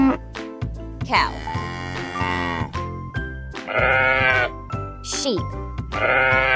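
Sheep bleating: several wavering, nasal baas come one after another, fairly loud, riding over a cheerful music backing with short breaks between the calls.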